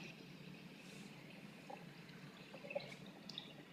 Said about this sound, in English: you can hear the water running down.